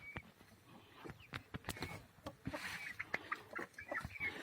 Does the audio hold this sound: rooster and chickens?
yes